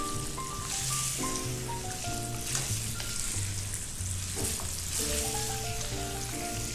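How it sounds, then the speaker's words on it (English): Lamb pieces for rogan josh frying in a pan while being stirred, giving a steady dense sizzle throughout with background music playing over it. "Keep stirring until it's get nice brown color."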